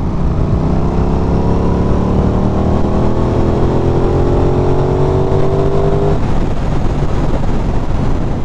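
Aprilia Tuono 660 motorcycle accelerating hard from a start, loud close engine rising steadily in pitch, then a gear change and continued strong acceleration with wind noise.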